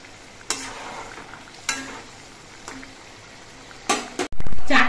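Hilsa curry with mustard paste simmers in a pan, a low bubbling hiss punctuated by a few sharp spoon stirs and scrapes, ending in a louder clattering burst nearby.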